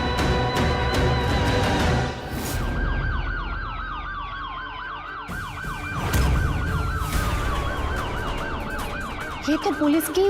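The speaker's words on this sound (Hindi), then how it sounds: "ये तो पुलिस की सायरन की आवाज है ना?" A police car siren wails in loud, repeated rising and falling sweeps during a tense TV drama scene. Rumbling background noise sits underneath the siren.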